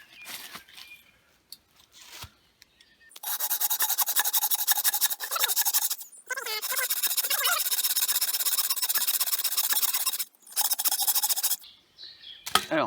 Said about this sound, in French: nous allons réaliser une entaille ici et ici à la scie